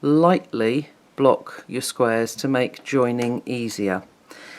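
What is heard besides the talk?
No everyday noise stands out behind the speech.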